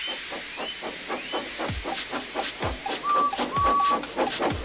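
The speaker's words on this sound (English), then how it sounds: "made lots of steam, and Edward puffed away" An HO-scale model steam locomotive chuffs in a steady rhythm of hissing puffs, with a few high whistle-like tones threaded through.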